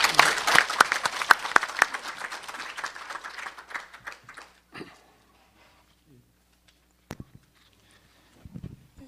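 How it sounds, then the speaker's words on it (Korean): Audience applause at a forum marking the anniversary of the 10.4 inter-Korean summit declaration, a dense burst of clapping for about four seconds that thins to a few scattered claps and then near silence. "여러분 박수로 환영해 주십시오."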